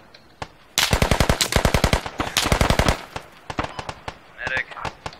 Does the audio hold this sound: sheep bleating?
no